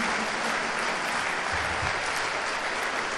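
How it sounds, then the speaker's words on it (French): A municipal council chamber breaks into dense, even applause for the special delegation, many hands clapping steadily at full strength for the whole stretch, with a brief low rumble midway. "On peut les applaudir."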